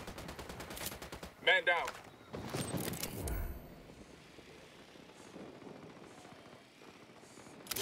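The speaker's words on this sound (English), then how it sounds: "Unidad's firing on the cartel." Unidad troops exchange gunfire with cartel fighters in Ghost Recon Wildlands, with mid-distance bursts of automatic fire and scattered shots under an engine drone and a brief spoken call.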